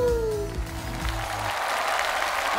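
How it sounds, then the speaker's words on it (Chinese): A television studio audience bursts into applause, with a sustained wash of clapping from a crowd that continues steadily to the end. "来掌声给他们。"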